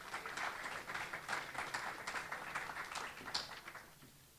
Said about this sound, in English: let's have a big round of applause for our RISE recipients